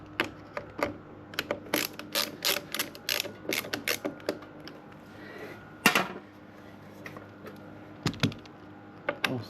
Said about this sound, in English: So I can push this up, hold it in position, tighten it up, tighten the next one.